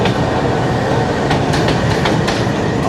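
A train rolls into Lahore station, loud and close, with continuous rumble and rhythmic clickety-clack of wheels over rail joints and a faint squeal near the end.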